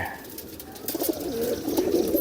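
Pigeons coo close by, soft low throaty calls rising in the second half over a background hum, brief and fairly faint.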